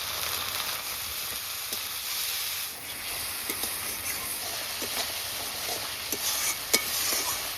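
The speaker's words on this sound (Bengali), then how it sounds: "মশলা কষানো হয়ে গেছে, দেখুন কি সুন্দর তেল ছেড়েছে মশলা থেকে" Spice paste of ginger, garlic and cumin with turmeric, salt and chili fries in oil in a pan, a steady close sizzle broken by occasional stirring scrapes and clicks.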